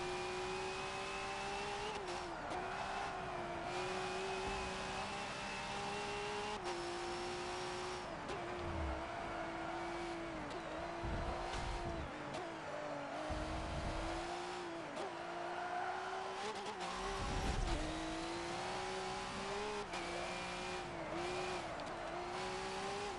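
V8 Supercars race engines at Bathurst in Forza 7, a loud sustained engine roar with the pitch rising and falling through gear changes and cornering, continuous throughout with occasional bursts of heavier noise.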